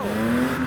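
A BMW E36 Compact revs hard and spins its tyres, giving a brief, loud rising engine note with squealing rubber, close by.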